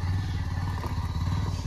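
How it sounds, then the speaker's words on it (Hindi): A motorcycle on a snowy road at night, giving a continuous low, throbbing engine rumble with light clattering and no voices over it. "किसी बाइक स्केट कर रही है, ऐसी गाड़ी भी स्केट करती है।"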